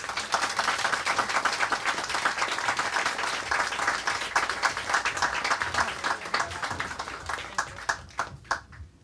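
An audience breaks into loud, sustained applause welcoming speakers to the stage, a dense wall of clapping that slowly thins into scattered individual claps near the end.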